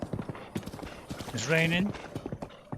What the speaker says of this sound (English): let's get on this horse